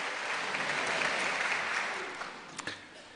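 Congregation clapping at a Sunday night church revival service to welcome the preacher, broad even applause that fades toward the end, with a few sharper claps and a brief voice at the close.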